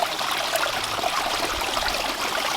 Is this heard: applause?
no